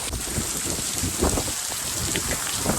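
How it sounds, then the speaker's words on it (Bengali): Water pours hard and steadily from a large resort pool shower, a dense continuous splashing close by, with rain falling at the same time. "এখানে শাওয়ার মতন রয়েছে, যেখানে গা ধুয়ে তারপর সুইমিং পুলে নামতে হবে।"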